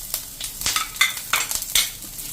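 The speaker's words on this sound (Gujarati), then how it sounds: "અને એને આપણે થોડુંક આ રીતે તેલમાં કૂક કરી લેશું." Garlic and chili pieces sizzling in hot oil, with bursts of crackling frying and clinks of stirring in an uneven rhythm, close by and without voices.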